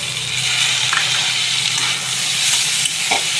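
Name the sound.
frying onions with green chilies and tomato added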